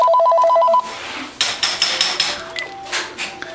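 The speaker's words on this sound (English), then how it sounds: "The phone ringing." A cell phone rings indoors during a heavy snowstorm, a short electronic ringtone at the start, followed by a series of sharp knocking clatters that die away.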